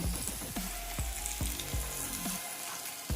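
Pork belly slices sizzle steadily in a hot pan for homemade samgyeopsal, with a dense frying crackle and a few sharp scrapes or clinks as the meat is moved, close and without talk.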